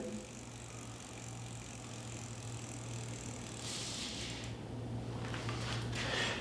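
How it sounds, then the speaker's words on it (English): Bicycle wheel fitted with a Brightz spoke light bar spun by hand, a faint steady whirring hum with soft rattling and ticking as it turns, growing a little louder toward the end. "Give the wheel a good spin."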